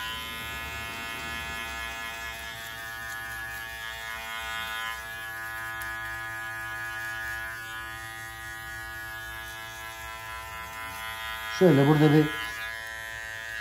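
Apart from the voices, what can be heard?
electric hair clipper trimming the nape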